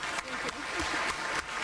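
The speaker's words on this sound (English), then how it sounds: "please give her a warm round of applause" Applause at a WTO ministerial conference, a short burst of clapping from the hall blended with a murmur of voices, moderate in level and fairly close.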